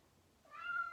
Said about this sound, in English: Sorry about the background noise. I got my daughter's cat.